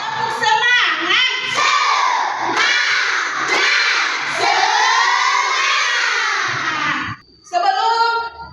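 Children in a primary school classroom chant and shout together in a loud, energetic group response, with bursts of rhythmic calling close by that pause briefly near the end before resuming.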